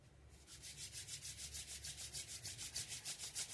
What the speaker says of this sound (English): start rubbing the palms